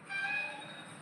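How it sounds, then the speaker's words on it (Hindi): A train horn sounds in a single sustained blast at moderate distance, holding a steady tone for about a second before easing off. "हॉर्न बज रहा है इससे कोई लाइव में दिक्कत तो नहीं होगी?"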